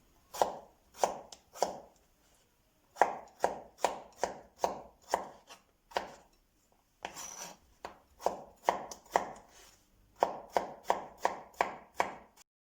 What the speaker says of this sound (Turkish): İki tane orta boy patatesimiz var. Bunları da küp küp doğrayacağız.